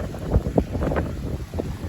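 Wind blows across Bulabog Beach on Boracay, a steady rushing buffet against the microphone with a few gusty thumps, no speech heard.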